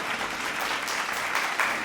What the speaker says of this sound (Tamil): 2 ஜட்ஜஸையும் நாம் வரவேற்போம், கைத்தட்டி.